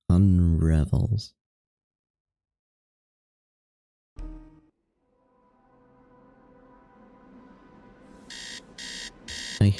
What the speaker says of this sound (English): I hate this kind of alarm clock.